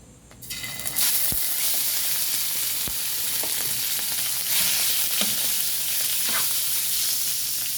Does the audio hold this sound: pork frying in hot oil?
yes